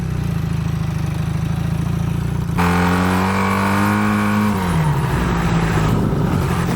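A 440 motorcycle ridden off-road on dirt, its engine droning steadily and then revving up loudly into a rising, sustained roar close by before easing off.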